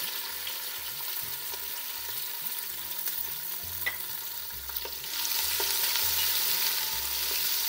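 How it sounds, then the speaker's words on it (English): Onions for vegetable biryani sizzle and crackle steadily in a hot pan with cumin, with a few soft scraping stirs; the frying grows louder partway through. "Now keep frying the onions till they're nice and golden brown."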